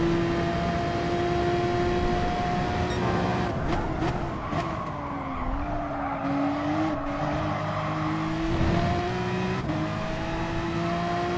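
A race car engine in Gran Turismo Sport holds a high, steady wail at full throttle, pitch dipping and climbing through a corner with faint tire scrub, loud and continuous with no talk.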